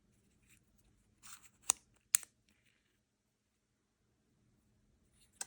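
An aluminum retractable fountain pen being clicked in and out, a few crisp, close clicks in quick succession with a short rustle beforehand, then quiet before one last click.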